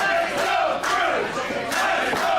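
A wrestling arena crowd roars and chants steadily at a hardcore match, a dense, loud wall of cheering voices with rhythmic swells.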